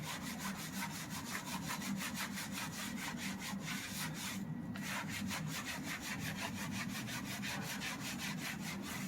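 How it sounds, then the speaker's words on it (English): A wheel brush scrubs a dirty car wheel caked with years of brake dust, worked with cleaning chemical in steady, rapid back-and-forth strokes that are loud and close, with no talking. "we're just going to come in with our wheel brush and agitate"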